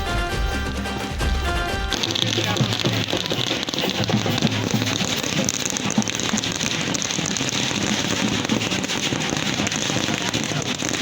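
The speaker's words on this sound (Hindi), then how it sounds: "बहुत ही शानदार तरीके से देख सकते हैं आतिशबाजी पटाखों के साथ" Dense crackling bursts of fireworks and firecrackers pour out continuously during Ravana Dahan at a Dussehra celebration in Jarhi Mod, Surajpur, Chhattisgarh, a loud unbroken crackle after a short musical opening.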